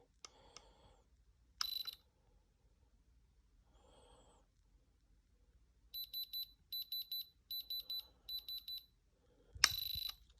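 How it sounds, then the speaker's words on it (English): A handheld diamond tester gives sharp electronic beeps as it touches metal, with one isolated beep, then a quick run of four short beeps and a final louder beep, amid faint handling sounds. "As soon as you hit metal with a diamond tester, turn it down to 2, it'll do this."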